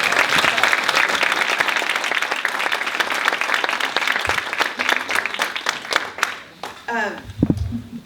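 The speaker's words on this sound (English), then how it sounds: "let's give a big round of applause to Sariel" Audience applause at a climate event fills the room with dense, steady clapping for several seconds, then thins out into scattered claps and fades as a voice begins speaking near the end.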